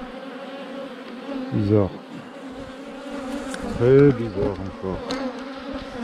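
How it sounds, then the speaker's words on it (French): Bees from an open hive during a beekeeping inspection make a continuous low buzzing throughout, with a person speaking French briefly over it at two points. "Alors vu le nombre d'abeilles,"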